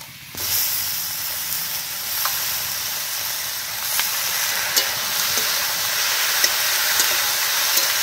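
Eggplant and tomato drop into a hot pan of frying potatoes, setting off a loud, steady sizzle and hiss that holds throughout, with occasional soft clicks and stirring scrapes and no talking.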